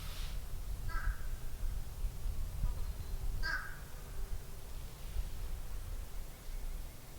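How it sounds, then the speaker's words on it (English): A crow caws twice, around one and three and a half seconds in, fairly distant, over a steady low outdoor rumble on a high day hike in the woods while a bushcraft bowl is being carved. "You hear that crow talking to me?"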